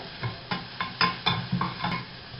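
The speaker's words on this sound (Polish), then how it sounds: "teraz już bardzo króciutko smażę" Food for fresh cabbage soup sizzles briefly in a pan while a utensil stirs it, leaving a series of soft, regular scraping strokes close up.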